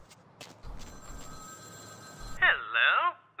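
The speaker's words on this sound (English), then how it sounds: "we can hear a phone ringing down here" A telephone rings in the video game Vampire: The Masquerade – Bloodlines, a burst of warbling electronic tones near the end, preceded by faint ambient hum and soft background noise.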